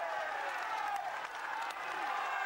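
A large roadside crowd cheers and applauds on the Sorrivoli climb of the 2004 Giro d'Italia, a steady wash of distant clapping and shouting.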